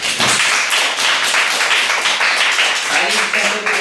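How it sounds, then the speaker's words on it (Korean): Loud, close applause from an audience after a final lecture, rapid dense clapping filling the whole few seconds, with voices mixed in under the claps. "다시 한번 박수 한번."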